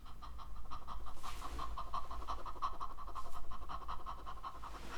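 A person does a dog-style panting breathing exercise for vocal technique, with rapid, steady, rhythmic breaths that continue evenly throughout at close range.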